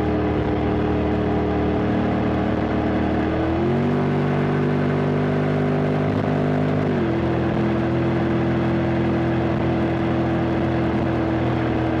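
Honda X-ADV 750 scooter engine holding a steady droning hum that steps up in pitch for a few seconds, then drops back to a lower steady tone, loud and close, with no talk.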